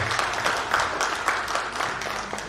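Audience at the regional meeting (Musda III) of the Indonesian hotel and restaurant association PHRI for East Nusa Tenggara clapping together, a dense, steady applause filling the hall with no talk over it.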